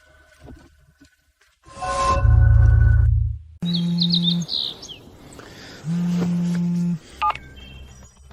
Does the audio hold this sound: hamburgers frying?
no